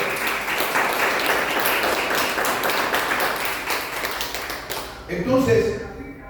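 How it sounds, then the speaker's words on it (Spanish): A church congregation claps loudly for Jesus Christ, steady dense applause filling the room for several seconds before fading, with a voice rising at the end. "Dele palmas fuertes a Jesucristo, para la gloria."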